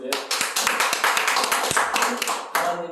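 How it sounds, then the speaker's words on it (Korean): Clapping from a church audience: a few people clap in a quick, uneven rhythm, with sharp, distinct claps close by, steady for about three seconds before a final clap. "박수 한번 쳐주세요"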